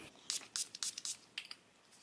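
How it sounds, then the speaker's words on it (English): Milani Make It Last setting spray is misted in a series of short, soft hissing spritzes, about seven quick bursts close to the microphone in an otherwise quiet room. "I'm using Milani Make It Last setting spray to set this all in place"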